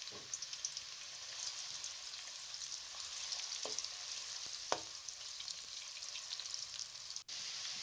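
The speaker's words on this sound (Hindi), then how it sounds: "सबसे पहले मैंने ऑयल में प्याज को ब्राउन करना है।" Onions fry in oil, browning for a chana pulao, with a faint, even sizzle and crackle. Occasional soft clicks and stirring taps break the sizzle, and no one speaks.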